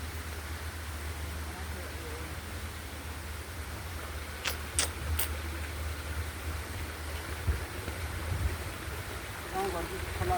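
A village stream flowing, heard as a constant low rush of water with a steady hum underneath and a few brief clicks and knocks partway through.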